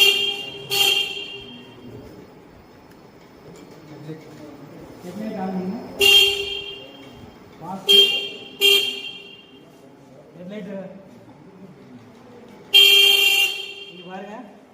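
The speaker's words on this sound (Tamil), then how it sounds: "ஹார்ன் அடிங்க" Electric vehicle horn on a training bench setup sounded in several short bursts, some doubled, loud and close, with people talking between the honks.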